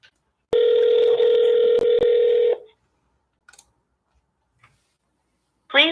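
An outgoing phone call rings once with a loud, steady electronic tone lasting about two seconds, followed by near silence with faint clicks before another tone begins at the end.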